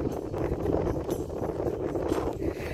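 Steady, broadband wind rushing and buffeting, like cold gusts off the sea hitting a microphone outdoors on a beach, continuous throughout with no voices.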